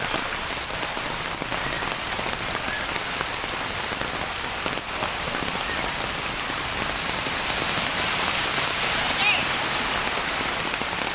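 Heavy rain pours down onto a flooded street at C.P. Garcia in a dense, continuous roaring wash that grows louder toward the end, with people's voices faintly mixed in beneath it.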